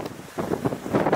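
Strong wind buffets the microphone outdoors in dark woods below a castle, a steady rough rumble with gusty swells and no voices.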